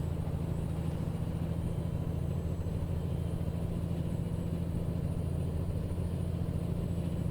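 The steady engine drone of a truck in American Truck Simulator, a constant low rumble at cruising speed on a highway, unbroken and even throughout with no voices.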